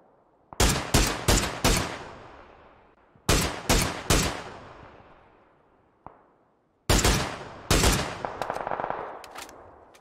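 Gunfire in a solo-versus-squads battle royale video game: loud bursts of rapid shots in several volleys with short gaps, close and sharp, one isolated shot in between, and no talk.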